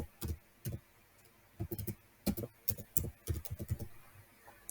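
Keys on a computer keyboard are typed in short irregular bursts of crisp clicks and taps, close but fairly quiet, with brief pauses between them.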